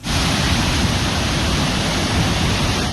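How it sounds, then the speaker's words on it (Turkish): Floodwater from overflowing creeks in Arhavi, Artvin, roars as a steady, loud, broadband rush after torrential rain, filling the whole span without a break or any voices. "Arhavi ilçesinde de birçok dere taştı."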